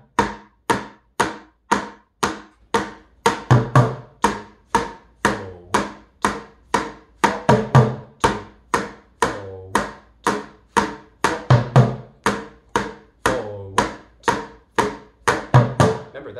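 Bucket drumming, struck on every beat in a steady, even pulse of sharp hollow hits, loud and close, with slightly heavier accents recurring every few bars and no talking.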